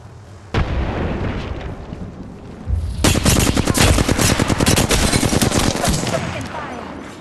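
Apex Legends gunfire: a sharp shot lands early, then dense rapid automatic bursts crackle loudly and continuously for several seconds, close and intense.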